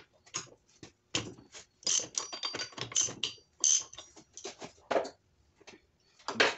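Ratchet cracking loose engine bolts on a motor with a spun rod bearing and damaged crank, a series of close, sharp clicking runs and taps in irregular bursts with brief silent gaps.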